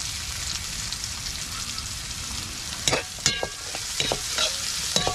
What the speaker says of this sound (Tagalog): Dito po natin ito ginigisa.